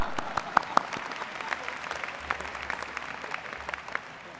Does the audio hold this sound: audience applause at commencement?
yes